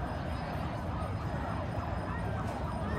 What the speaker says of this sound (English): Was that an ambulance?